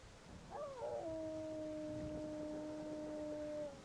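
One deep wolf howl from a video game, starting with a brief wavering yip then settling into a long, steady low tone that fades out, with no talking over it.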